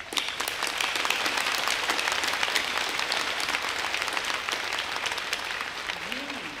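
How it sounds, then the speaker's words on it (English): A gathering's audience gives sustained, even applause for invited guests, with crisp individual claps throughout and a faint voice emerging near the end. "a big applause for that."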